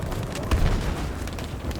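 A single deep boom bursts midway through a Battlefield V soundscape, a short heavy grenade explosion against low background rumble.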